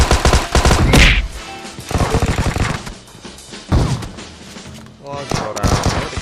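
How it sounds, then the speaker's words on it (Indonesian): Gunfire in the mobile battle royale game PUBG Mobile, rapid bursts of loud shots in several clusters, mixed with excited talk from players. "Nembakin aku kampret."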